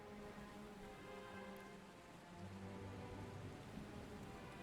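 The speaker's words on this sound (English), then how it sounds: "Oh, it's raining." Faint, steady patter of rain with a low droning background, quiet and continuous, no voices.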